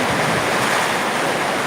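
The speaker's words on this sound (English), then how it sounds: "it's raining terribly" Heavy rain falls steadily, a dense continuous broadband hiss that fills the scene loudly and evenly with no breaks and no voices.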